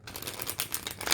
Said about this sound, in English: I'm pretty damn severe with my riffle shuffling